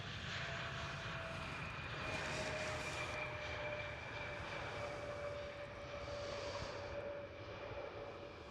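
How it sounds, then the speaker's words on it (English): A KLM Cityhopper Embraer E175 regional jet at Amsterdam Schiphol gives a steady, fairly distant engine roar with a faint whine, holding level throughout with no voices. "Currently we do have a KLM Cityhopper E175. The smallest of the KLM fleet."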